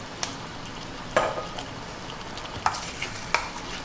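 Pork in a pan with light soy sauce being stirred, a few sharp scraping knocks of the utensil against the pan over a soft steady sizzle, close and moderately loud.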